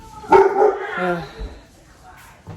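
A pet dog barks indoors, close and loud: a couple of sharp barks merge into a drawn-out whining yelp, then one short yip near the end, while someone talks over it.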